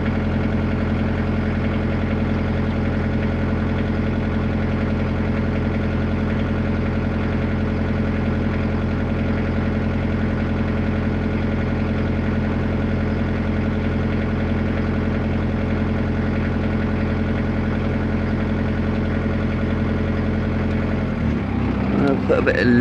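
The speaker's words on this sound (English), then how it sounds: "Put a bit of load on the engine." A VW T4 van's diesel engine, fitted with a glow plug relay, idles steadily at close range with a deep, even drone that runs unbroken until it changes near the end.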